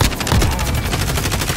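Rapid gunfire from the video game Call of Duty: Warzone, a dense, continuous burst of shots with no pause, loud and close throughout.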